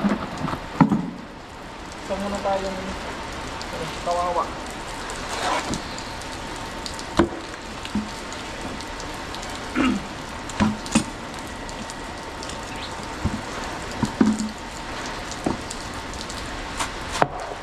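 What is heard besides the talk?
heavy rain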